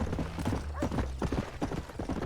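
Horse hooves gallop in Red Dead Redemption, a steady rapid clip-clop rhythm of repeated thuds, close and fairly loud.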